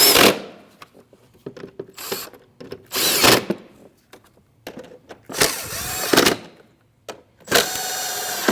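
Bolts on a Jeep Cherokee active grille shutter are tightened with a power tool in several short, loud, close bursts separated by pauses with faint clicks and handling noises.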